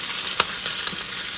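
Bacon sizzles steadily in a pan for a short stretch, with a single sharp tap or pop early on and no talking.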